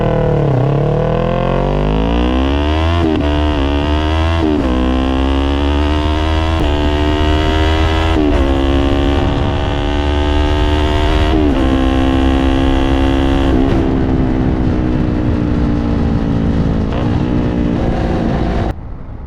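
Loud motorcycle exhaust on a solo ride through Napa Valley, the engine note climbing through the gears with repeated rising revs and shift dips, steady wind rush underneath.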